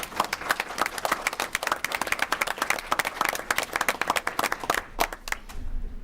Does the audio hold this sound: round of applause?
yes